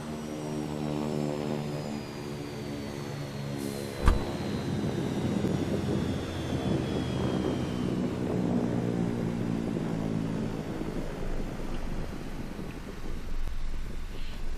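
Kodiak 100 single-engine turboprop in Microsoft Flight Simulator after fuel cutoff, a steady loud engine whine and drone with a falling high tone and one sharp click partway through.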